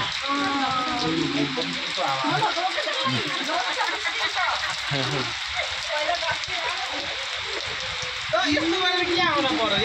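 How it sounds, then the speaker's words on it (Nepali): Heavy rain falls at night at 10:30 pm during a lightning storm, a continuous hissing wash of drops on surfaces, with a person talking over it throughout. "पानी त मजाले आइरहेछ"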